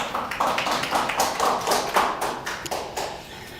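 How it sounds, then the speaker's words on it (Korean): A church congregation at a Wednesday service applauds together, a dense burst of clapping from many hands that swells and fades over a few seconds. "하나님께 영광의 박수를"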